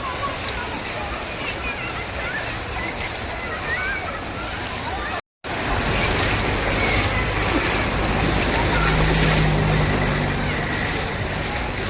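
Someone wades through knee-deep floodwater on a waterlogged street in Virar East, Palghar, during heavy monsoon rain. Steady, loud sloshing and rushing water fills the whole stretch, broken by one brief dropout partway through.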